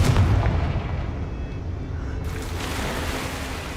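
A Confringo explosive spell goes off in a video game, a loud booming blast with a heavy low rumble that carries on steadily as a dense roar for several seconds.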